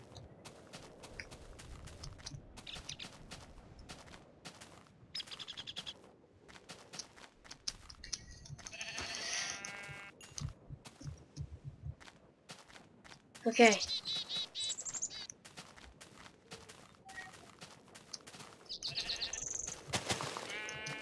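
Sheep in the Minecraft modpack Tekkit bleat in a few short, separate bursts amid game footsteps and soft ambience, while someone talks over much of the scene.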